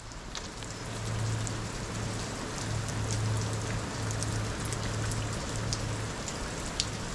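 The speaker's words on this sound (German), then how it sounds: "es regnet gerade extrem stark" Heavy rain pours steadily for the whole stretch, a dense, even hiss of drops heard from shelter under a truck trailer on a hike, with a low hum underneath and no talking.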